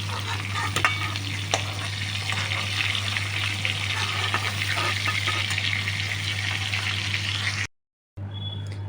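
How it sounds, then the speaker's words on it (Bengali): Giant freshwater prawns fry in hot oil with a steady, close, loud sizzle and crackle lasting the whole clip, briefly cut to silence near the end, with no one talking. "ওই দিক হয়ে গেছে, এদিকটা উল্টে দিলাম। মাছটা ভাজা হয়ে গেছে"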